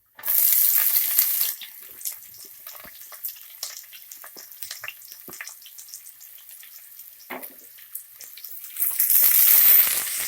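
Onions and cashews fry in hot oil with a steady close sizzle, punctuated by scraping stirs, loudest at the start and again at the end.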